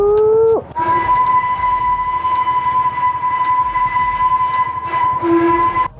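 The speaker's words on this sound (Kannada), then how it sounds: "ಇಲ್ಲಿ ಹೊಂಟೈತೆ ನೋಡ್ರಿಪ್ಪ, ಇದ ಟ್ರೈನ್." A train passes close by with a loud, sustained horn blast over a rumbling rail clatter, the tone wavering near the start and end.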